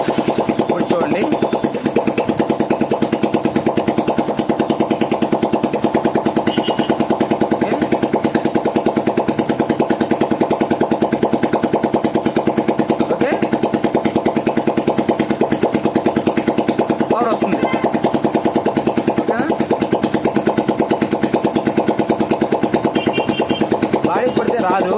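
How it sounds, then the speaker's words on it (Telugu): A Hero Karizma motorcycle engine runs steadily throughout, a loud close continuous idle with a rough buzzing drone and rapid firing pulses that hardly change. "ఇప్పుడు మనం ఏం చేయాలంటే బండి స్టార్ట్ చేస్తాను."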